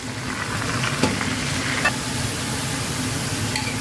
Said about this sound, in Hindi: अब इसमें प्याज और टमाटर एक साथ ऐड कर लेता हूँ